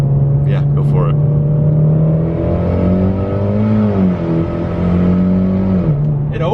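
A straight-piped Mitsubishi Evo X with an open dump downpipe roars past, a loud buzzing engine note that rises and falls as it revs and shifts, with brief voices at the start and end.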